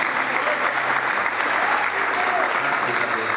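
A church congregation applauds at an anniversary service, sustained clapping from a large crowd that stays loud and dense throughout.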